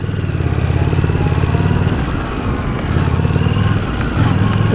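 A 2017 Harley-Davidson Street Rod motorcycle rides along, its engine note loud and close, swelling and easing with uneven, jerky throttle changes.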